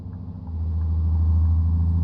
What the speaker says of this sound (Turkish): Arabanın sesi çok boğuk geliyor şey olunca.